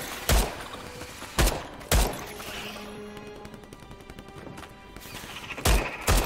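Gunfire in the sci-fi shooter Starship Troopers: Extermination: a handful of sharp, loud pistol shots spaced irregularly across the moment, with a dense bed of distant battle noise between them.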